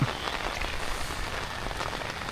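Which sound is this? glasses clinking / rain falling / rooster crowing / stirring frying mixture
rain falling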